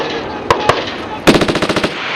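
Marine Corps machine gun at a desert range firing at sustained rate: two single sharp shots, then a pause, then a rapid burst of about nine loud, evenly spaced rounds, close and alone.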